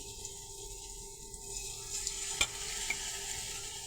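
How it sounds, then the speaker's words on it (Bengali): Balls of palm fritter batter dropped into hot oil, a soft, fairly quiet sizzle with a few small crackles and one sharp pop partway through. "এরপর তেলের মধ্যে ছেড়ে ছেড়ে দিলাম বন্ধুরা"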